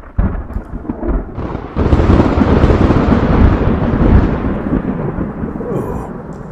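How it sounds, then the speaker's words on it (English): A thunderstorm with a deep rolling rumble of thunder over steady heavy rain, loud and close, building after a brief quieter start. "Sounds like that storm is picking up pace now here, isn't it?"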